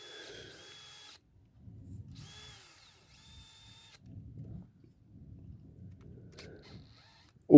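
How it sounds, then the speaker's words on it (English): A power drill whirs in several short bursts, polishing motorcycle nuts and bolts, separated by pauses, with low rumbling wind noise in between and a sharp knock at the end. "A little bit of polish and just run the drill round."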